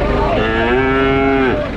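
A young male calf moos at a busy livestock market in Besuki, Situbondo, East Java, letting out one long, loud, close bellow that holds steady for over a second before trailing off over market background noise.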